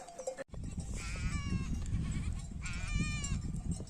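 Sheep in a flock on a hot day on a village highland road bleat in two or three drawn-out, wavering calls close by, over a low rumbling background, with a faint bell now and then.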